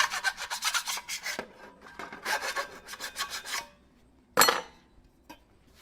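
A file rasps back and forth across freshly drilled metal of a computer case, removing burrs in quick rhythmic strokes, two bursts of scraping, then a brief pause and a sharp clink.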